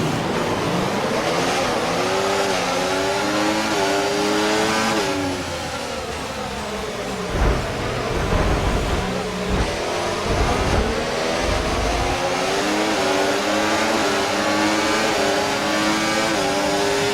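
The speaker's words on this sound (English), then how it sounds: "You're going to need a good launch at the race start." Race car engines at a race start in F1 24 at Jeddah, loud high-pitched engines rising and shifting through gears as the field launches, with roaring passes and engine sweeps throughout.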